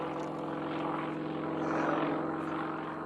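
Propeller engine of a Sukhoi SU-31 aerobatic plane flying an unlimited freestyle sequence outdoors, a steady loud droning buzz with rich harmonics that swells and fades slightly as the plane passes.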